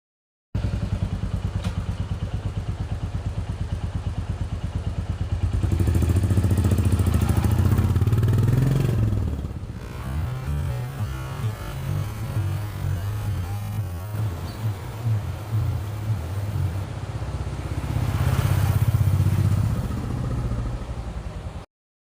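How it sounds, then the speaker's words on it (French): Motorcycle on a road trip: the engine runs at a rough, chugging idle, revs up loudly, drops back to a ticking idle, then revs again, close by with clattering mechanical noise. "petit road trip en moto"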